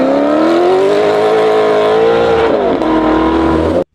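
A Maserati GranTurismo with a 4.7-liter Ferrari-built V8 and Maserati exhaust roars loudly and steadily, its pitch climbing slightly as it revs, then dips before the sound cuts off sharply.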